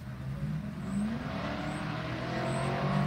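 A car engine rumbles steadily with a low, continuous drone that swells slightly over about three seconds, as if a vehicle is cruising past at moderate distance, with no voices.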